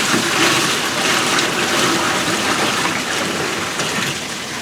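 Water poured onto a Polaris RZR floor drains out through a floor drain plate kit, a steady close rushing and splashing flow that continues throughout without talk.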